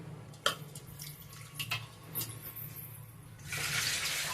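Running tap water while rice is washed in a home kitchen, a soft steady stream with a few small splashes and clinks, swelling into a louder rush near the end.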